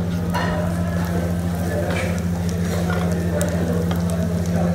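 Garlic sautéing in a mix of oil and butter, a loud, steady sizzle with soft crackling and a persistent low hum, some faint background voice-like murmur but no clear speech.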